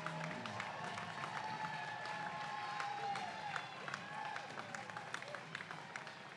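Spectators at the Oz Day 10K road race in Australia cheer and clap steadily as Kurt Fearnley leads the open men's wheelchair racers, a continuous crowd roar with scattered applause and faint voices underneath.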